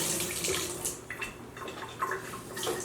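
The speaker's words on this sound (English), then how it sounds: "You can come rinse your hand off if you need to." Kitchen tap water runs steadily while hands are rinsed after cracking eggs during home baking, a fairly close, continuous splashing flow with no talking.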